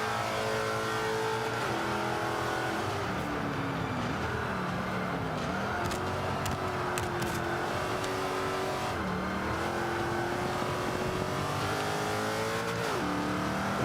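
A Range Rover driven on the Indy GP circuit in Forza 5, its engine droning and revving up and down through turns as it slides into drifts, steady and close, with faint tire squeal and no talk.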